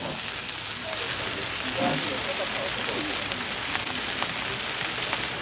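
Steady sizzling and crackling from shrimp frying in a hot pan continue throughout, with people chatting over it.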